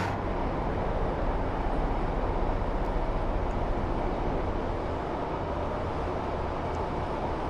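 A commuter train powering up in Train Sim World 6, a steady, even rumble of motor and rolling noise that holds without change throughout.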